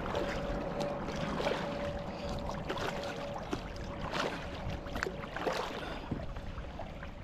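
A kayak paddle dips and pulls through calm water, giving soft intermittent splashes and trickles against a quiet outdoor background, faint and unhurried, with no one speaking.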